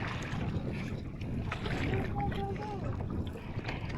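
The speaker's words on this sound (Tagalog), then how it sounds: "Ang lakas ng hangin." Wind rushes and buffets the microphone with a low, steady roar at Lake Louise, Canada, while voices talk faintly underneath.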